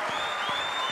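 A squash match crowd erupts in loud, sustained cheering and applause after an extraordinary rally, a dense roar of clapping and shouting with no pauses.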